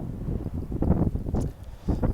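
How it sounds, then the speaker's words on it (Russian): Low, blustery wind buffets the microphone in uneven gusts, rumbling and rustling close by for a couple of seconds. "Ой, ветер дует."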